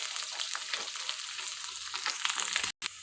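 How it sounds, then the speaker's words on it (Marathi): Chopped onion and coriander sizzle steadily in hot oil for a bitter gourd masala dish, with scraping stirring strokes over the constant crackle and a brief cut near the end. "त्यात आता कोथिंबीर टाका आणि तेही तेलावरती व्यवस्थित मिक्स करून घ्या"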